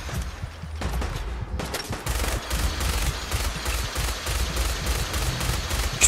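Rapid, sustained gunfire in Fallout 4, close and loud, with dense bursts of automatic shots rattling continuously and a few sharper single cracks scattered through.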